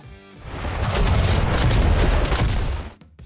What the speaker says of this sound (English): The Fat Boy is a heavy-hitting rocket launcher.